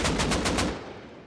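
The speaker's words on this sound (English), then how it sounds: "just, you know, keep shooting your AK" An AK rifle in the game Rust sprays a fast, loud burst of about five evenly spaced shots close up, ending abruptly with a short echoing tail.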